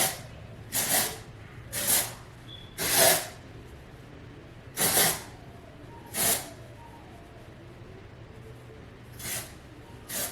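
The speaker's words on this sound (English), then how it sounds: "I always start with a little bit of dry shampoo. And I'll bend over and spray it off in my hair." Dry shampoo sprayed from a can into hair at close range: six short, sharp hissing bursts spaced irregularly, each one loud against a quiet background.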